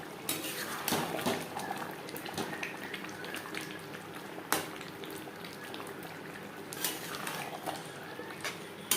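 Spoon scraping and clinking in a pan while alur dum with mutton fat, kasuri methi and spices is stirred, giving irregular metallic knocks and scrapes over a soft background hiss, fairly quiet and close.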